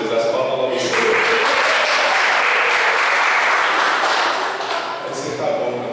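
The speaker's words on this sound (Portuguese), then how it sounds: "As palmas para você." Applause from a church congregation during a worship gathering, a steady wash of clapping that swells and holds for several seconds, loud and close, with voices mixed in beneath.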